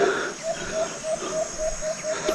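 A bird calls repeatedly in a steady series of short notes, evenly spaced, over constant insect-like chirring in the woods.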